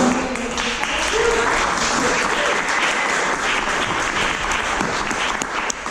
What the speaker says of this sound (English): I'd like for you to please join me in giving a big round of applause to Director Eric.